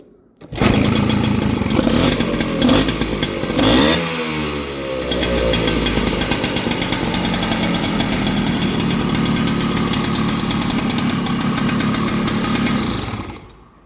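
A motorcycle engine roars close by, revving up and down in a sweeping burst before settling into a steady, loud, rough running drone.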